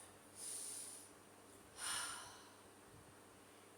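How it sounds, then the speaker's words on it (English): A person sitting slouched takes two deep breaths, each a soft, airy hiss through the nose or mouth with a pause between them, quiet and close. "Get into a slouched position. Take a deep breath."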